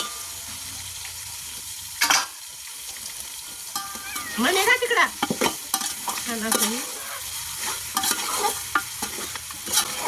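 Mutton sizzling in hot oil with browned onions, being stirred on a wood-fired stove, with scraping spatula strokes and bursts of crackle; someone speaks briefly over the cooking.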